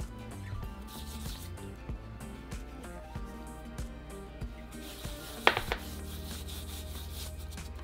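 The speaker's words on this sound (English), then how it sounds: "now we're going to rub our meat with our spices" Hands work a spice rub into meat for barbacoa, a soft, steady rubbing and squishing with small handling knocks, heard up close over continuous background music.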